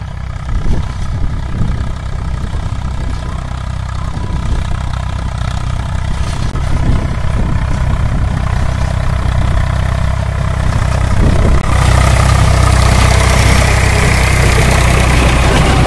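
An Eicher King 485 tractor engine runs at a steady idle during PTO power testing beside a new borewell, a loud, constant low throb that grows heavier near the end.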